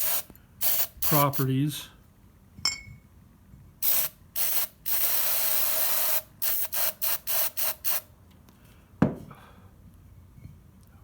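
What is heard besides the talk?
spraying WD-40 onto stained glass pliers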